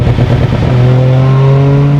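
A modified 350 hp Toyota GR Corolla with anti-lag holds a loud, close, steady high rev, the engine's buzzing drone sustained after a brief choppy burble at the start.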